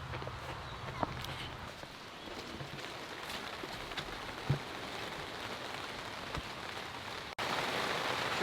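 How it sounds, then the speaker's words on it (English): Rain patters steadily on a garden greenhouse, a soft, even hiss with scattered drop taps that suddenly grows louder and denser near the end. "here comes the rain again"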